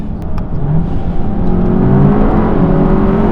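A modified Volkswagen Golf GTI TCR (Mk7.5) hot hatch accelerates hard with its engine revving. The roar is loud, close and rising in pitch, with no talking over it.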